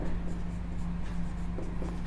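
Chalk or marker scratches steadily across a board during a Class 10 quadratic equations maths lesson, a continuous close rubbing stroke with a low background hum.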